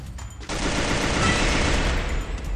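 Rapid automatic gunfire in a mobile shooter game rattles on continuously for about two seconds after a quieter start, loud and close with no voices.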